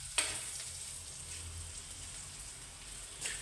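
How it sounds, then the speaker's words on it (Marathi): Urad dal fries in hot oil, a faint, steady, close crackle and sizzle that goes on throughout, with a couple of brief sharper pops. "चांगली तेलामध्ये ही तळली गेली पाहिजे उडदाची डाळ."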